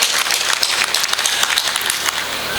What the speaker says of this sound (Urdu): میں چاہتا ہوں کہ آپ سب اپنے لیے تالیاں بجائیں، پلیز زوردار تالیاں بجائیں.